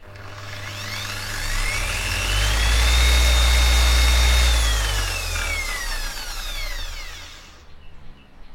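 An Okatz dual action polisher spins up gently on its soft start, building to a steady whirring hum that holds loud and close for several seconds before easing back down, with no talking.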